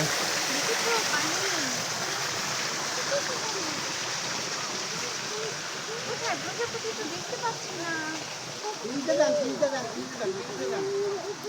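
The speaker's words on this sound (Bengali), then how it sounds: "সুন্দর ঝর্ণা বানায় রাখছে" Artificial waterfall in a park garden at Gazipur Safari Park: a steady, dense rush of falling water fills the whole stretch, with voices talking intermittently over it.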